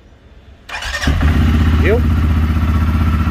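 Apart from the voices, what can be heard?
Can-Am CForce 520L quad ATV engine starting and idling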